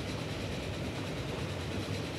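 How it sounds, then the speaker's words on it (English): Train rumbling along the track in the Transport Fever railway game, a steady dense roar with faint rhythmic rolling, heard alone at moderate volume. "I think we're chasing a train."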